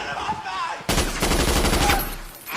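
Rapid automatic gunfire from the zombie horror film 28 Days Later bursts out loud and sustained for well over a second, then cuts off, with a voice and background noise before it.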